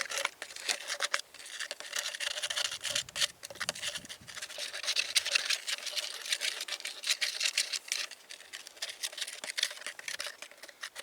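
A fork stirs a small batch of concrete demolition mix with water, giving a steady, close scraping and gritty patter that runs continuously with quick, irregular strokes.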